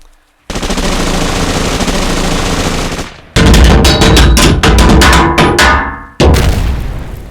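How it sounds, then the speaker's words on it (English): Sustained machine gun fire as bullets rip into a robot's head, a loud continuous burst for about three seconds, then after a short gap further ragged bursts and sharp shots, with no talk. "until he hears as the bullets rip into the robot's head"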